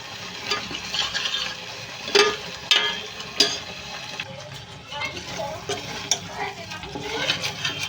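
Curry paste for a paneer curry fries in oil in a pan, giving a steady sizzle broken by several sharp stirring scrapes and clinks, with a voice talking over it.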